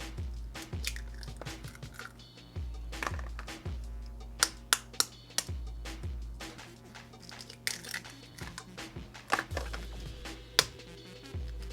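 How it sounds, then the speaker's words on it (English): A knife chopping cherries on a cutting board, with a run of sharp, close, irregular chops and cuts spread across the whole stretch, some louder than others, with no talking. "it's going to be a lot quicker just to cut them up with a knife"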